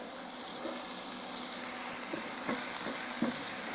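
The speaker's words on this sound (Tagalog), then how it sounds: "Ituloy lang natin ang pag-isa hanggang sa tuluyan ng maging malambot yung sibuyas." Ginger and onion sauté in a hot pan for batchoy Tagalog, a continuous close sizzle with occasional stirring scrapes and pops, no voices.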